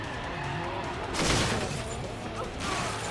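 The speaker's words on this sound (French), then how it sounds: "Je vais vraiment me servir du frein à main sur ce virage." Car handbrake skid in Carmageddon Reincarnation: engine roar runs under a sudden loud broadband tyre screech in the middle, which eases off and flares briefly again near the end.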